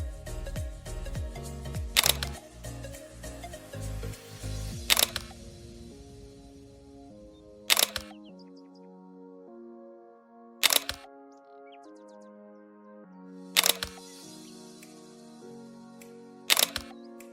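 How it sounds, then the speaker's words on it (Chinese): Camera shutter clicks at a historic cathedral in Riga's old town, a handful of sharp isolated snaps spaced a few seconds apart over soft background music. "当然不免俗的，还是要请同事帮我按下几张快门，帮我记录一下此时此刻此景"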